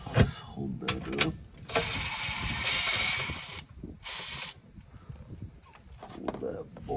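A ratchet works loose the transmission pan bolts under a 2016 Ford F-250 with the 6.7L PowerStroke, with bursts of rapid clicking and a longer spinning run between pauses, alongside scattered clunks and brief speech.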